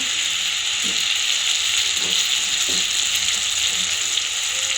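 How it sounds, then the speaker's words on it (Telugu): Homemade designer-shaped fryums fry in hot oil with a loud, continuous close-up sizzle and crackle. A few faint scoops or stirs sound underneath, and no voices are heard. "ఇట్లా ఆయిల్లో అంతా ఫ్రై చేసుకొనేసి అన్నీ ఇట్లా తీసుకొనేస్తాం"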